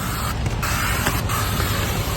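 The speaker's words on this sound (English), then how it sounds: "I'm gonna spray everything down, spray the housing down." Coil cleaner sprayed onto the coils and housing of a new mobile home AC unit. A hissing aerosol blast is heard over a steady background hum, along with a few short bursts and faint mechanical creaks.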